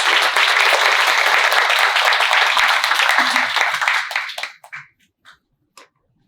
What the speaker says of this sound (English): Please, everyone, give a warm round of applause to Anne.